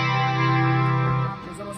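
Electric guitar played through a Boss short delay pedal, with a sustained, effect-coloured note ringing loud and steady before fading after about a second and a quarter.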